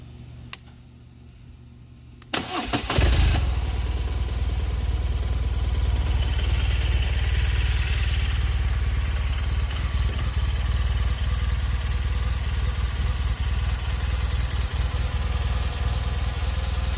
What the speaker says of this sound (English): I do like that boxer motor